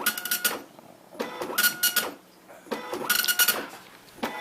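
Apple ImageWriter II dot matrix printer printing on fanfold paper, three loud bursts of buzzy mechanical chatter separated by brief quieter pauses as the print head travels, close up with no talking.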